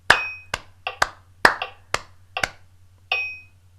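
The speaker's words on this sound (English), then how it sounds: "Should we clap that first?" Several sharp hand claps ring out alone in an uneven rhythm, with short gaps between groups and a final clap after a longer pause.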